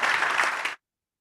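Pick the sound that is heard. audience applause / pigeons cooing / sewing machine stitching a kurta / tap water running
audience applause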